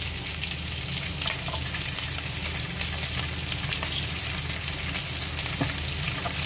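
Cumin, curry leaves and chopped garlic sizzle loudly in hot oil, a dense, steady frying crackle with scattered pops throughout, close and without voices.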